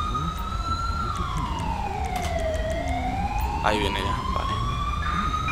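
In GTA 5 with the LSPDFR police mod, an ambulance siren wails in slow, sweeping rises and falls as it approaches over traffic noise, while someone speaks Spanish over it.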